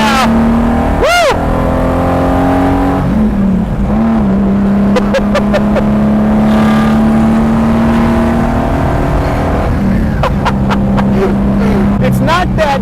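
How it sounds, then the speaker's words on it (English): Lamborghini Jarama V12 revving hard under full throttle from inside the cabin, with rising and shifting engine tones running loud and steady throughout, a voice and an excited shout breaking in over it. "Alright, I'm flooring it now."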